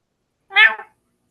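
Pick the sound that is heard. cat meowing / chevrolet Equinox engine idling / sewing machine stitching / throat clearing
cat meowing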